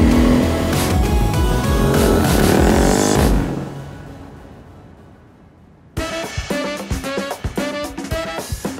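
An off-road vehicle roars loud and close as it accelerates across open desert flats in California, the engine note rising steadily before fading away, then a second burst of revving with rhythmic engine pulses.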